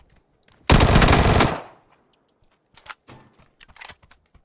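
Gunfire in the PUBG video game: a single loud, sharp burst of rapid automatic fire lasting under a second, followed by quiet and a scatter of faint, sparse clicks and distant pops.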